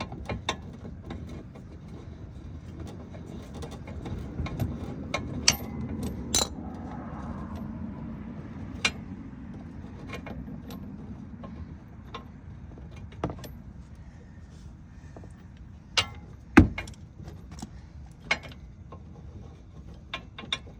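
Wrench working the end-link nut on the rear sway bar of a 2015 Camaro, with sharp metallic clicks and clanks scattered over a low steady rumble and a few louder knocks near the end.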